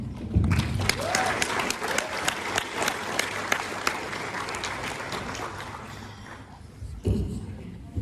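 A convention panel audience at Indy Pop Con claps in a burst of applause that gradually thins and fades, with speech picking up faintly near the end.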